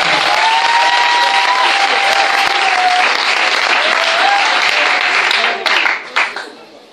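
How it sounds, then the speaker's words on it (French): A church congregation in Yaoundé, Cameroon applauds loudly and steadily, a thick continuous roar of clapping with some cheering and voices, dying away abruptly in the final second. "Applaudissons le Seigneur."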